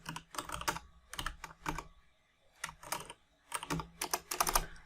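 Clicky bursts of typing on a computer keyboard as an SSH login command is entered into a terminal, several quick runs of keystrokes separated by short pauses, close and clear with no talk.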